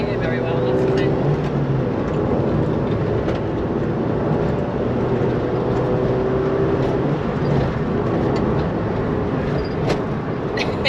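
A Ford Fiesta ST150 track car drones loudly from inside the cabin while driving, with steady engine and road noise throughout and occasional people talking over it.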